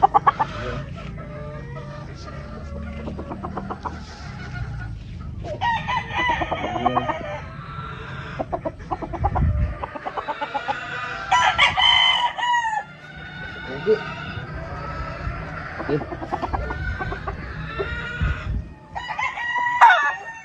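Straight-breed gamefowl roosters chosen as broodcocks, crowing and clucking repeatedly at a farm, several birds calling near and farther off over faint background noise.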